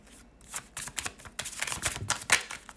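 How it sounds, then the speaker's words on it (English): Wise Witch oracle cards are shuffled by hand in a quick, close-up run of papery riffles and flutters, with no talking. "let me grab an oracle card. Okay, so I grabbed my Wise Witch oracle cards."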